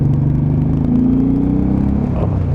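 A Suzuki Intruder 1800cc motorcycle engine pulls hard under acceleration, a loud, deep, steady rumble with a droning note that rises slightly, heard close and alone.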